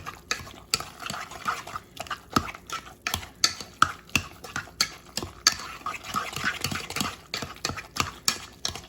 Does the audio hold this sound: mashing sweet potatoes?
yes